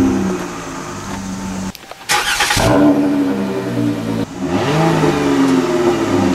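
A minivan fitted with Flowmaster exhausts revs close by in several bursts: a first steady run, a brief drop, then sharp, loud rises in pitch that fall away and climb again.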